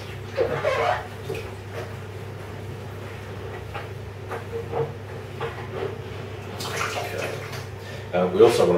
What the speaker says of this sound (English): we just want to give it a good mix around and coat the entire inside of the fermenter with the sanitizer